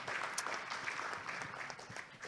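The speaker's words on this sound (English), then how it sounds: "Please give him a round of applause." An audience applauds a speaker being introduced at a journalism conference panel, with steady, moderately quiet clapping filling the short stretch with no talk over it.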